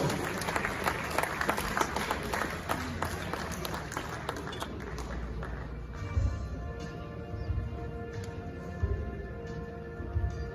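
Audience applause at a journalism awards ceremony in Manhyia as the Mayor of Kumasi is welcomed, a dense, steady round of clapping that gradually thins to scattered claps and room noise.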